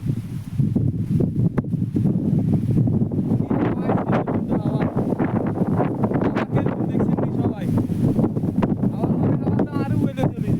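Strong wind gusting through a date palm orchard, a steady loud rush with rustling fronds and heavy buffeting on the microphone throughout, with a voice talking under it.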